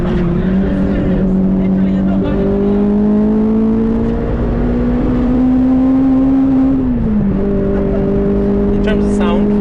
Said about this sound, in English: we've got a K&N induction kit, and we have a sports cat, and we also have an M2 non-resonating center pipe, and there's a Scorpion back box